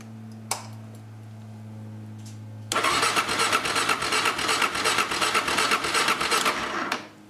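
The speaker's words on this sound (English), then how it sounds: "It's important that when you crank the engine, never crank it longer than 15 seconds." Motorcycle starter cranking the engine during a starter system voltage test, a loud steady churning whir that kicks in abruptly and runs about four seconds before cutting off, following a faint hum and a click.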